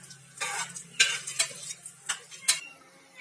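Whole spices (bay leaf, black stone flower, fennel, cardamom, cloves) frying in oil and ghee for veg biryani, with a steady close sizzle broken by several sharp scraping stirs and clinks of a spoon against the pan.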